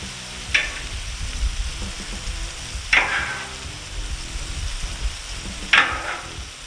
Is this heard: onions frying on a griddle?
yes